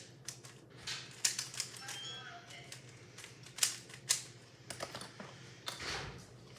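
A new Rubik's cube being turned, rapid irregular clicking and rattling twists with a faint springy squeak, close to the listener, with some light background voice.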